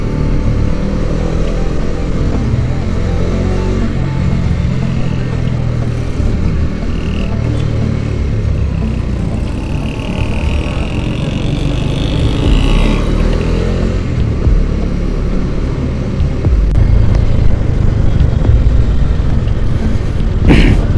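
Chennai road traffic during Diwali, with a continuous loud drone of motorcycle and car engines nearby and occasional revving rising above the steady rumble.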